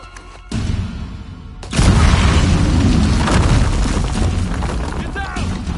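A loud grenade explosion in a PS4 shooter game erupts as a sudden booming blast that rolls on into a sustained roar, with game voices and noise around it.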